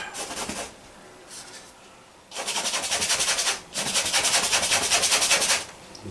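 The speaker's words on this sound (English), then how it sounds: "I don't mind scrubbing some of the bristles away." An old paintbrush scrubs back and forth on watercolor paper in close, rhythmic rasping strokes, a few short bursts first and then two longer runs of rapid scrubbing, with no talking.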